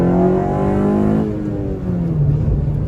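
A regular Honda Civic, a 9th-generation model, accelerates through pulls after warming up, its engine whining upward with steady rising harmonics, then easing to a lower drone, close and loud with no talk.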